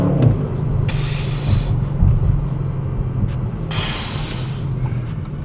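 A 2025 Audi RS6 Avant Performance V8 gives off a deep, rumbling burble, loud and close, with two brief surges of rasp over the steady low drone.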